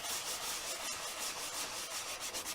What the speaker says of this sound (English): with the sanding block